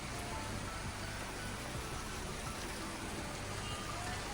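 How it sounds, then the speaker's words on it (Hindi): Heavy rain pours down steadily in a dense, unbroken hiss, loud and close throughout with no talking over it. "मतलब बस बारिश बारिश बारिश, इतनी तेज़ बारिश हो रही है"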